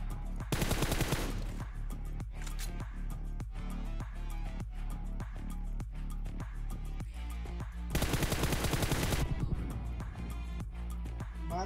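Enemy players fire on the player in PUBG Mobile, with rapid automatic gunfire in repeated sharp bursts and two dense, sustained volleys, loud and close throughout.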